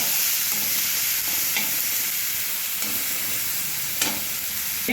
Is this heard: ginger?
yes